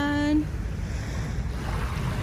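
Rough sea waves in Manila Bay, with strong swells: a steady, broad rushing wash mixed with wind buffeting, preceded by a brief tonal hum at the very start.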